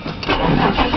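An old van engine cold-starts on an icy morning after sitting a week or two, catching quickly into a rough, close mid-pitched idle within about a second.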